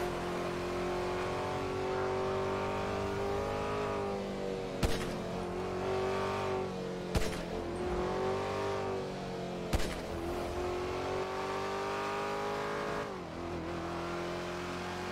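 A car speeds down a freeway in the NoPixel GTA video game, its engine holding a steady, strong droning tone with slight pitch swells, broken by a few sharp clunks.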